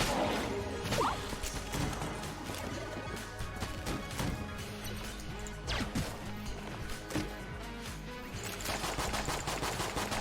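The Gunderfury gun, levelled to 60, fires in the video game Enter the Gungeon: dense, rapid bursts of crashing shots and impacts repeat continuously at moderate loudness.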